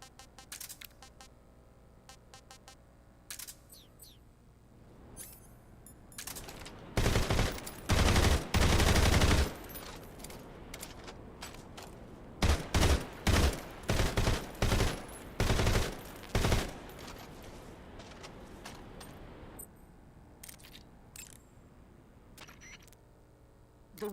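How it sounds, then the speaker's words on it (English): Rifle gunfire from an XM-16E1 in the stealth video game MGS Delta, loud bursts and rapid volleys of shots in two main clusters, with scattered single reports and quieter game ambience around them. "the weapon you're equipped with now is called the XM-16E1"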